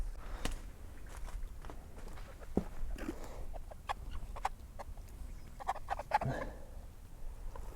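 Soft clucks from chickens come and go at a distance, mixed with scattered scratching and footstep-like taps in a quiet setting.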